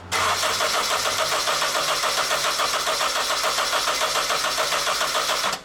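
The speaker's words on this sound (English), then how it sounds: "Then I crank the engine for a few seconds until the gauge stops climbing." Car engine cranking on the starter during a compression test, a steady rhythmic churning that runs loud and close for several seconds without catching, with no talk over it.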